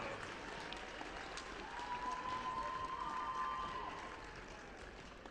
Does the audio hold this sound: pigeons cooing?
no